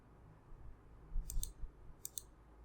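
Two quick double mouse clicks, crisp and close, spaced about a second apart over a faint room hum.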